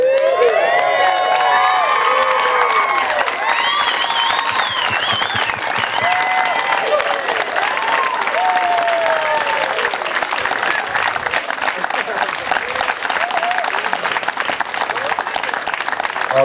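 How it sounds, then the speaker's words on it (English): Wedding guests burst into loud, sustained applause and cheering after the couple's kiss, with whoops and high excited shouts riding over dense clapping throughout. "Let's keep the applause going, ladies and gentlemen."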